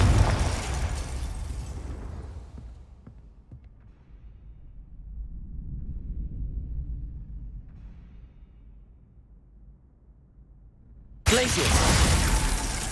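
A Confringo explosive spell in Hogwarts Legacy goes off with a loud burst, then fades into a low rumbling decay before another sharp blast hits near the end.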